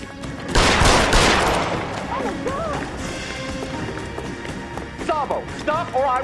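Gunfire bursts from the crime video game L.A. Noire crackle loudly near the start, followed by a tense scene with shouted voices and a noisy, busy background.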